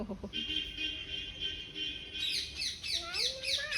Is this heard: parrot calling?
yes